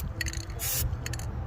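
Thick protective coating sprayed onto a boat trailer during a Bayliner restoration, heard as short hissing bursts, one longer steady blast in the middle, set over a low rumbling background.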